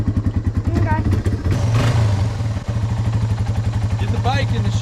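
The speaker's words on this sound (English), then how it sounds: "Jed, you wanna film me as I ride away?" A Yamaha XT225 motorcycle idles nearby with a steady low thumping engine, blips its throttle briefly, then settles back into a rhythmic putter as it pulls away, while people talk over it.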